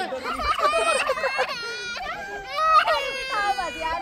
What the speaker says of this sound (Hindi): बच्चा रो रहा है जबरदस्ती फोटो खिंचाया जा रहा है बच्चे का